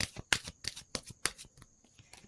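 Tarot cards are shuffled in quick riffling bursts, crisp flutters and snaps repeating at a brisk, uneven rhythm, close and fairly quiet, with no voices.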